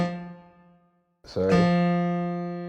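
A piano note rings out and decays, then a second note is struck and sustained with the pedal, its tone holding steadily to the end; played alone with no talk.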